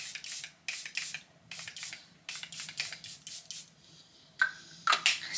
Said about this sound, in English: I'm gonna go in with the Charlotte Tilbury